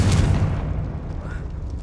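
A Confringo spell blast in the video game Hogwarts Legacy lands as a sudden, deep, booming explosion with a rumbling tail over about two seconds, together with game speech.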